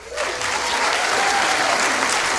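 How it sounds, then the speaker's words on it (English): Old canned applause sound effect played back, a steady dense crowd clapping that starts abruptly and holds loud and even for over two seconds without pause. "Love this old applause."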